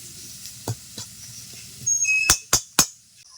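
Stirring in a pan with a soft frying sizzle as black cumin seeds cook before pumpkin flowers go in, with a few sharp clinks of a spoon against the pan toward the end.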